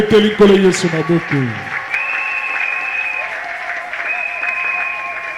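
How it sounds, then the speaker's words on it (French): A church congregation applauding and cheering the Lord at a miracle-week deliverance service, a short loud burst of clapping mixed with shouting voices that fades into a long sustained tone and a murmuring crowd. "Quelqu'un acclame le Seigneur."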